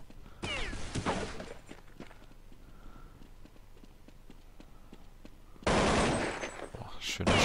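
Gunshots during a competitive Counter-Strike match on the de_train map, two loud bursts of fire at the start and end around quieter footsteps and clatter, with commentators talking throughout.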